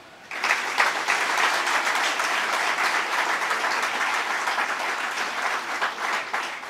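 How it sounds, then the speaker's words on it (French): Audience at a book dedication ceremony held at an orphanage breaks into applause after a quiet start, a broad, steady wash of clapping that holds at a full level to the end. "Et ce sont des applaudissements qui lui appartiennent"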